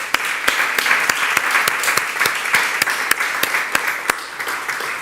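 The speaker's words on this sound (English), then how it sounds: "That deserves a round of applause for Atlanta." Applause from attendees at a housing authority board meeting rolls on steadily, a moderate crowd of clapping hands with distinct louder individual claps popping out at regular intervals, no talk over it.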